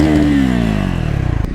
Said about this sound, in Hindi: एग्जॉस्ट नोट बहुत ही अच्छा है, मतलब एक एंगेजिंग एग्जॉस्ट नोट है ये बहुत